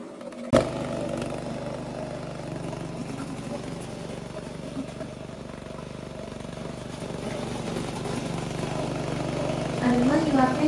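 A remote-controlled brushless mower's gasoline engine starts with a sharp pop and settles into a steady idling drone, with someone talking over it.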